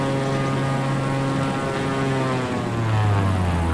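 A propeller airplane in Microsoft Flight Simulator 2020 roars down a runway for takeoff, its engine drone loud and steady, rising slightly in pitch and intensity toward the end.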